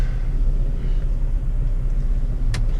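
A Ford Transit van on a test drive after a cracked intake manifold repair, with a steady low road rumble and engine drone heard from inside the cab and a brief sharp click near the end.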